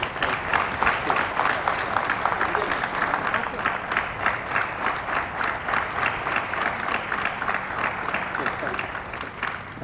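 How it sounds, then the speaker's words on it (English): A corporate audience gives cricketer VVS Laxman a standing ovation after a talk, with sustained rhythmic clapping filling the room, steady and loud throughout, and some crowd voices underneath. "I'll request you to give a standing ovation to Laxman"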